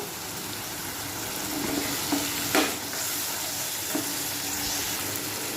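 Potatoes and pointed gourd sautéed in a spiced gravy for a rohu fish roe curry, a steady close sizzle with a few soft spatula scrapes and clicks, no talking.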